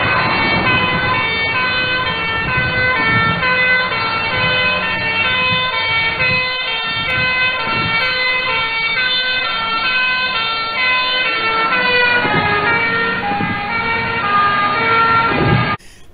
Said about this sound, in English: The siren isn't changing, but the sound that we hear changes as the fire engine approaches us and passes us.